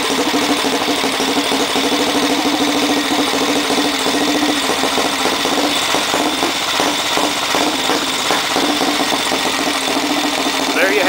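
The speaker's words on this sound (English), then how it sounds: "when I try to rev the throttle up just a little bit, that it will start to drop out and the bike will backfire" A 1967 Matchless G80CS motorcycle with a magneto fault runs steadily and loudly close by, its engine note uneven as it drops out and stutters under light throttle.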